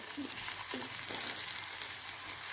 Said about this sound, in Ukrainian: трошки обжарила цибульку, морковку, спаржу